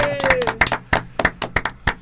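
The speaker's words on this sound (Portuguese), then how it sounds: "salva de palmas para ele" A small group claps rhythmically for a guest on a Portuguese-language football talk show, with about seven or eight sharp, close claps in quick, even succession.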